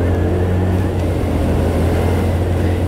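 Steady, loud engine and road drone from a Yamaha Ray ZR 125 scooter while overtaking, a continuous low hum with wind rush and no pauses.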